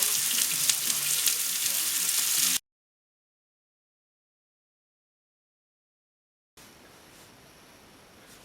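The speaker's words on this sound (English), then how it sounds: "just some deer burger. Fry that up," Deer burger sizzling in a frying pan in an off-grid log cabin: a loud, steady hiss of frying cuts off abruptly, then resumes more quietly after a few seconds of silence.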